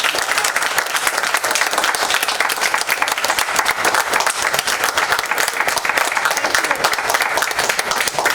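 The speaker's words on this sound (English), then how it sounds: "I think we can have a round of applause" An audience at a book launch event bursts into sustained applause, dense close clapping holding at a steady level for the full stretch with no pause.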